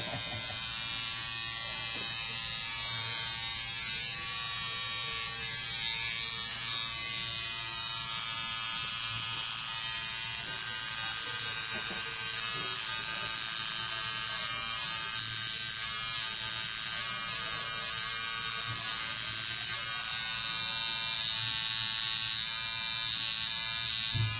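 A tattoo machine buzzes steadily and fairly close for the whole stretch at a tattoo parlour, a continuous electric whir with no pauses and no voices over it.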